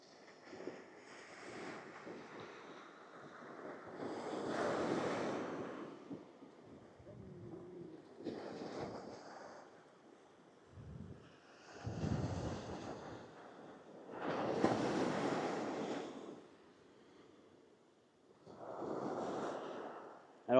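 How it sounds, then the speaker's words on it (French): Wind gusts and surf at Rayol-Canadel beach come in irregular swells, rising and fading every few seconds as rough blustery buffeting against a quiet background. "voilà la plage du Rayol Canadel."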